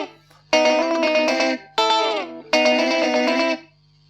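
A rockabilly electric guitar lick, played through slapback delay, comes as three bright sustained phrases with a quick echoed repeat and a steady low hum beneath them, loud and close with no talking.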